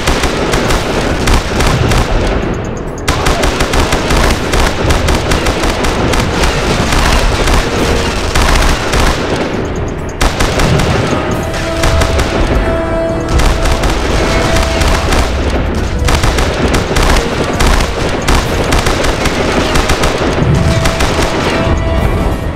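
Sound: machine gun fire in video game Mortyr 3

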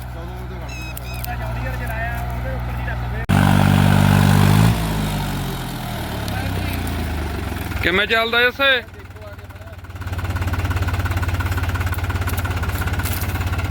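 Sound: New Holland 3630 4x4 tractor engine running

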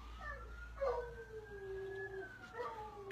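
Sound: dog howling at sirens

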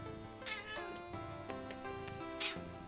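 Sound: cat meowing in video game Eastward

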